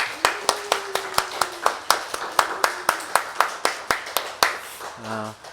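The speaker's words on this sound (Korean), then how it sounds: "다시 한번 힘차게 영광의 박수 올려드립니다" Church congregation clapping together in a steady, even rhythm, sharp claps ringing out in a reverberant hall, with a sustained tone underneath and a brief voice or note at the very end.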